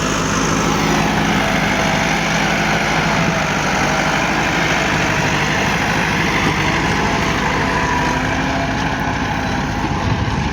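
A Massey Ferguson 385 tractor engine runs loud and close on farmland, a steady, unbroken diesel rumble with no pauses.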